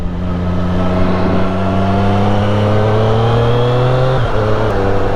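A 2021 Triumph Street Triple 765 RS motorcycle with Euro 5 tuning pulls under throttle, its engine a loud, close, steady drone that climbs gently in pitch with a brief dip near the end.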